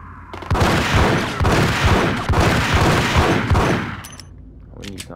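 Grenade blast in the Max Payne video game, a loud sustained roaring explosion with rumbling low thuds that fades into debris clatter and faint clicks.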